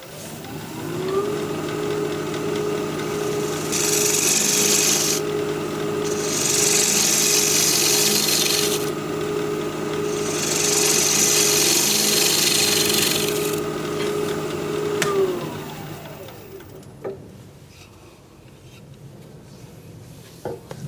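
Dogwood dish spinning on a wood lathe while a tool cuts out the center nub, a steady loud whirring hum with a bright cutting hiss that rises and falls, then the motor winds down near the end.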